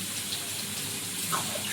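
Water poured into a hot frying pan while cooking a chicken dish, a steady close gushing hiss with no talk for under two seconds.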